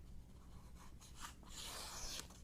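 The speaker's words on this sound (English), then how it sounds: "let's see how well it cuts through the paper" A Finch Oxbow knife slices through a sheet of paper, a short close scraping swish that builds into a brighter rasping cut near the end, with no talking.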